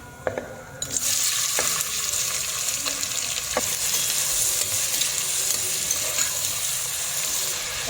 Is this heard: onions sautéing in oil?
yes